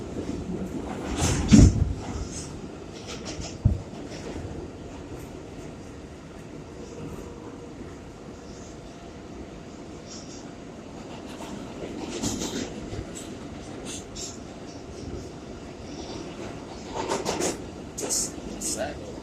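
Inside a moving 4 train subway car, a steady rumble and rattle of the rails runs throughout, with occasional louder clanks, while a person talks over it.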